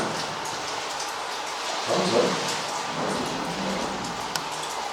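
A steady, broad hiss of compressed air escaping from an airline inside a mine fills the space, with a brief rumbling swell partway through and faint echoing surroundings.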